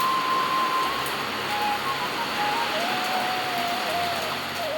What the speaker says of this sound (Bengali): থামার জায়গায় জোর বৃষ্টি হচ্ছে